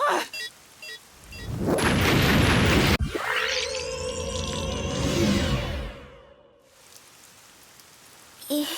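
A bomb blast in the video game Rain Code: a rushing roar swells, then a sharp boom lands and rolls out into a long ringing, sweeping tail that fades to near silence, loud with no talking.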